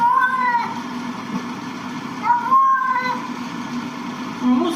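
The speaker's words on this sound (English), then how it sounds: "Okay, the cat's actually saying no more." A cat's meows played back through a small speaker, two drawn-out tonal cries at the start and middle over steady background hiss, with a faint short squeak near the end.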